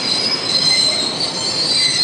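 Train wheels squeal in a loud, steady, high-pitched screech over a faint rolling rumble as the train pulls into a station in the 1989 film Tetsuo: The Iron Man, with no voices.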